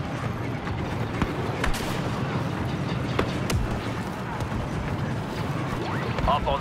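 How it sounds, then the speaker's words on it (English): Dense battle noise fills the Felucia map in Star Wars Battlefront II. Grenade blasts and gunfire crack through a constant rumbling din, with sharp bangs scattered throughout. "Deploy grenade!"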